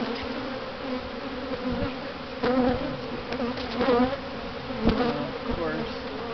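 Honey bees buzz around a hive in Manhattan Beach, a dense continuous drone close by, with louder passes as individual bees fly near and a brief spoken word.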